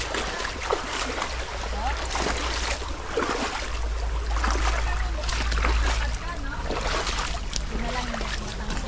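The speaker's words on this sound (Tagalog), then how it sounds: "may makina ng motor dito." A motorboat engine runs on a stream, a steady low drone holding throughout, with splashing and flowing water over it and some talk underneath.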